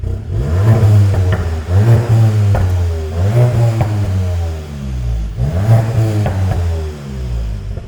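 A car engine revs repeatedly with a deep, booming Remus OPF-back sport exhaust, rising and falling in several strong pulls, loud and close.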